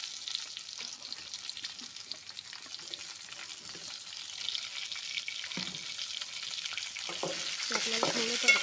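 Two large chopped onions sizzle quietly in a pan for a lima bean vegetable dish, with soft scraping strokes of a stirring spoon rising toward the end; the frying stays faint and close, with no talking.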